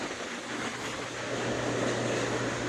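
A vacuum pump runs steadily on the AC system of a 2001 GMC 1500 truck, giving a continuous close hum and whir that builds slightly louder toward the end.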